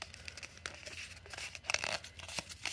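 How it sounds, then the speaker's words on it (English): A piece of cardboard box is cut and then folded: close, crinkly scraping and tearing rustles in uneven bursts, with no talking. "I cut a piece of the box. I'm going to fold it, roll it up,"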